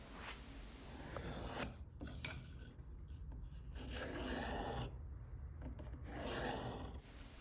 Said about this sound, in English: I'm going to use the divider again to scribe a line evenly distant from the edge of the scabbard